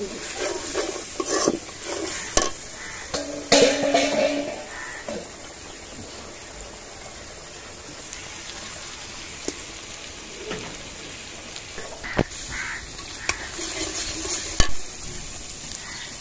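Ginger and garlic sizzle in a pan while a spoon scrapes and clacks against the metal in irregular bursts, the frying hiss close and steady underneath.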